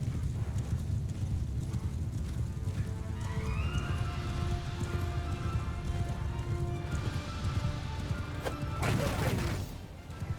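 Steady clip-clop of galloping horse hooves in the video game Mount & Blade II: Bannerlord, with a horse whinny rising over a busy, noisy battle din of clashing and shouting.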